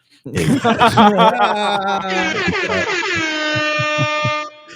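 A voice chuckles briefly, then a loud, steady air horn sound effect from a soundboard blares and holds until the end.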